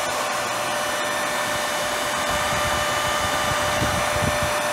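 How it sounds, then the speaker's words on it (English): A Karstens universal cylindrical grinder with 10 by 12 inch capacity runs its spindle with a steady, loud mechanical whir and hum, plus faint clunks from the machine. No one speaks. "Spindle sounds good."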